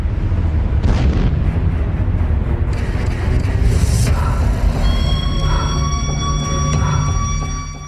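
Heavy booms and artillery blasts from fighting in the Russia-Ukraine war, with repeated loud low thuds and rumbling bursts layered over continuous battlefield noise, ending in a quieter stretch with lingering tones.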